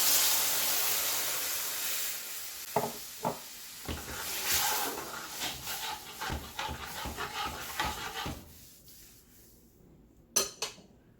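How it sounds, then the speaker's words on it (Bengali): Milk is poured into a hot pan of semolina for halwa, setting off a loud hiss that fades over a couple of seconds. Scattered clinks and scrapes of a utensil against the pan follow. "আমি আগে দুধটা দিয়ে দিব আমি জালটা একটু কমিয়ে নেই কারণ অনেক ফুটাফুটি করে"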